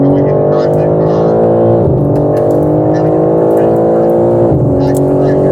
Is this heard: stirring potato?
no